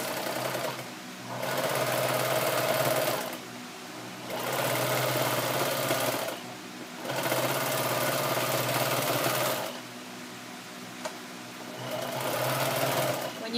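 Sewing machine stitching denim from old jeans into an apron, running in four steady bursts of a few seconds each with brief pauses between, a close, even mechanical whir.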